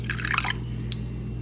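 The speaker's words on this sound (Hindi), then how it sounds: "और इसमें मैं थोड़ा सा पानी ऐड करूँगी।" A little water is poured into beaten eggs in a bowl, giving a short, close trickle and splash followed by a single faint drip against a low background hum.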